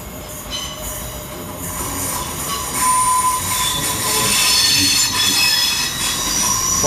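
A Great Western Railway class 800 train arriving to terminate at London Paddington, loud and close, with steady rolling wheel noise and high metallic squeals of wheels on rails throughout.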